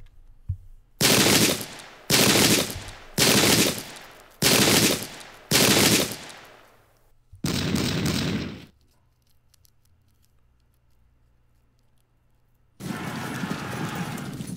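Cannon and musket volleys fire in the Pike and Shot Campaigns English Civil War battle game: five loud evenly spaced blasts, a longer rumbling volley, a quiet lull, then a sustained roar of gunfire.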